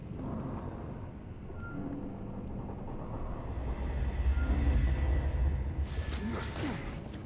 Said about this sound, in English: The train is a smooth ride.